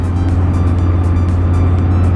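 The engine of a Mercedes G-Wagon, an affordable used example, gives a steady, loud, low drone throughout with even texture and no voices.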